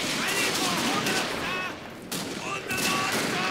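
Dense musket volley gunfire in the Total War: Shogun 2 – Fall of the Samurai video game, a continuous crackling fusillade of overlapping shots with a brief lull midway, loud and close, with a voice talking over it.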